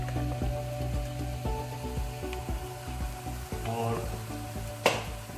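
Onions frying in a pan, a continuous soft sizzle with faint stirring clinks underneath and a brief spoken word near the end.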